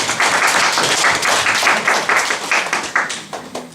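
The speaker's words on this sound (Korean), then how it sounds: "우리 박수로 환영하겠습니다." A church congregation at a worship service claps in welcome for a young member home on leave, a dense, steady round of applause filling the whole stretch and thinning slightly toward the end.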